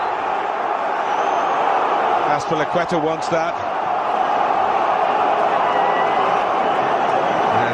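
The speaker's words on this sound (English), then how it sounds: "The crowd want that." Football stadium crowd at Chelsea versus Manchester United, a dense continuous roar of thousands of fans swelling steadily, with a commentator talking briefly over it.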